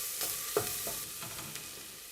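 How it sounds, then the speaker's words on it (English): Garlic fries in a pan over lowered heat, a soft continuous sizzle with a few light stirring scrapes, close by and fairly quiet. "I've turned the heat down a little bit to stop the garlic burning"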